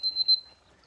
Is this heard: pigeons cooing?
no